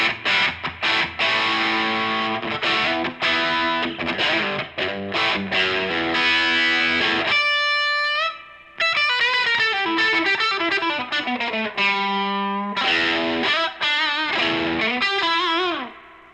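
A Stratocaster electric guitar played through an octave fuzz pedal, with choppy distorted strummed chords followed by sustained, bending fuzzed lead notes over several phrases.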